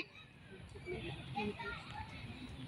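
Children play at a playground with a swing, their shouts and chatter coming from a moderate distance as a lively, continuous background.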